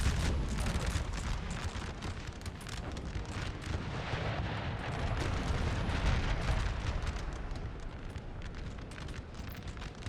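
Artillery fire in Napoleon Total War on a mountain battlefield, a dense, continuous rumbling barrage of overlapping booms that holds steady and loud throughout.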